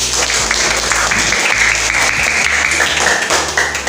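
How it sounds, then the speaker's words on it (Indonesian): Schoolchildren in a classroom break into loud, sustained applause lasting several seconds, dense and continuous, with some tonal voice-like sounds mixed into the clapping. "Tepuk tangan dulu."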